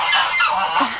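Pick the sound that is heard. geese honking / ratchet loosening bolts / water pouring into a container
geese honking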